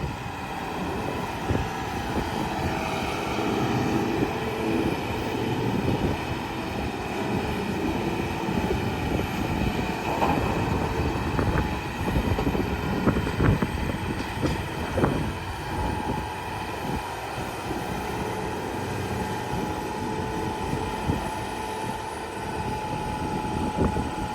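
A heavy, high-horsepower farm tractor packs down a corn silage pile. Its engine gives a steady, loud, droning roar with some wind buffeting, continuous throughout and with no talking.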